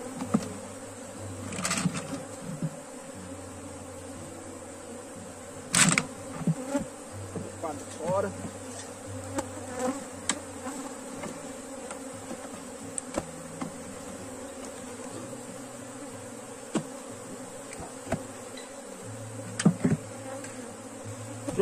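A honey bee swarm at an open hive, handled during low-cost beekeeping, fills the air with a steady, dense buzz, with scattered clicks and knocks of handling heard over it.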